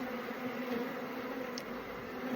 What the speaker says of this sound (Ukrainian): Ще одна бджола мене вкусила, вони вже дуже злі